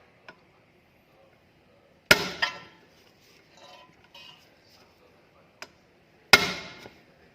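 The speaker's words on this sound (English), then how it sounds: "with a hammer you're going to be hitting the back of the screwdriver right here" Two sharp, loud metallic hammer strikes on the back of a screwdriver, loosening a rear brake caliper screw on a 2008-2017 Honda Accord, each ringing briefly, with a few faint taps and clinks between them.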